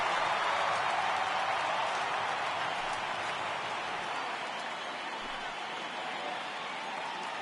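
Stadium crowd in a baseball video game rising for a full count, a steady broad roar of cheering and applause that stays loud and even throughout with no clear voices on top.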